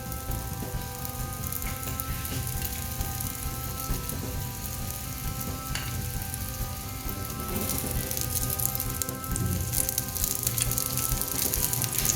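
An aloo paratha fries in ghee on a hot griddle, giving a steady, dense sizzle that crackles evenly and continuously throughout, close and moderately loud, with no talking.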